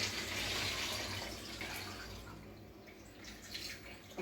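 Water from rinsed lentils draining away in a kitchen, a steady broadband splashing rush that is fairly close and gradually eases, with no talking.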